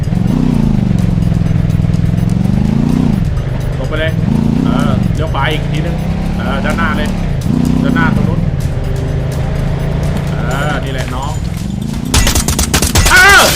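Video-game gunfire through smoke ends the stretch in a loud burst of rapid shots, after a long stretch of excited talking that dominates the sound.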